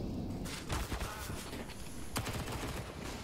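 Rapid gunfire from a Counter-Strike match, with bursts of shots fired in quick succession, loud and continuous for a few seconds amid game sound.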